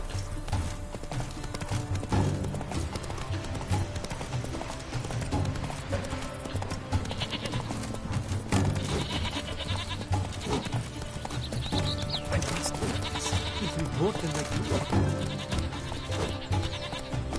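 Roach the horse trotting in The Witcher 3, her hooves making a steady, moderately loud clip-clop over in-game ambience and music.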